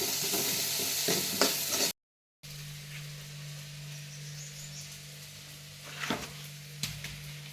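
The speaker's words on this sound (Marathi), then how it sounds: "टोमॅटो मस्त मऊ होतो तोपर्यंत आपल्याला फ्राय करायचं आहे" A tomato and masala mixture fries in a pan for misal and is stirred, giving a steady close sizzle with occasional scraping strokes and a brief silent gap.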